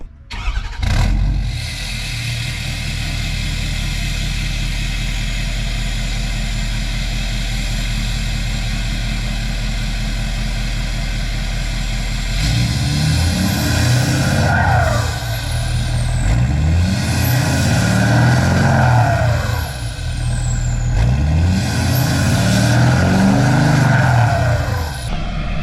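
A Ford F-350 diesel pickup engine with DEF delete idles with a deep rumble, then revs repeatedly in rising and falling surges, loud and close throughout.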